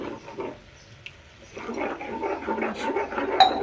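A little water splashes into a pan of spiced green peas curry, a soft gurgling pour that swells in the second half and stays close, with faint talk at the start.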